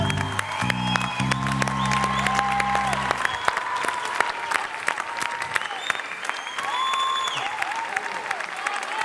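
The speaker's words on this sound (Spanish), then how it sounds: "este aplauso es para ustedes de la Murga equipo Ja" An audience applauds a murga performance with dense, sustained clapping and scattered cheers and whoops, while musical tones fade out in the first few seconds.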